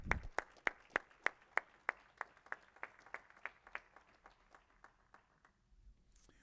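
A lone pair of hands claps about two dozen times in a steady, even rhythm at a pitch competition for the chair of the Hemet-San Jacinto Chamber, close by and fairly faint, slowing and fading toward the end.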